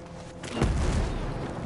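Mortar round exploding during close-quarters combat training, a single deep boom landing partway through and swelling into a heavy low rumble, loud and filling the space.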